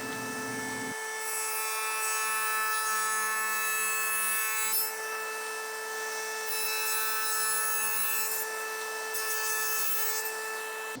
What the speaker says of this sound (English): without moving the fence, I'm going to raise the blade to 1/2 inch and perform my next cut